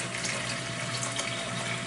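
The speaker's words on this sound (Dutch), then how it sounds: "Even water vullen." Water streams steadily from a tap into the water tank of a coffee maker, a continuous close-up splashing rush with no break for the whole short stretch.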